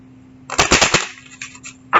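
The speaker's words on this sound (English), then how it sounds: "my heat has just come back on" Home heating coming back on with a quick cluster of sharp metallic bangs and knocks, followed by a few softer taps and one more clack, over a low indoor hum.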